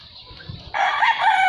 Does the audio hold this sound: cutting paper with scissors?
no